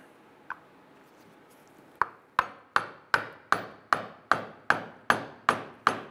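A suspension cup from a 1997-2006 Jeep Wrangler leveling kit being hammered into a greased spacer through a block of wood: one light tap, a pause, then about eleven sharp, evenly spaced knocks, close and loud.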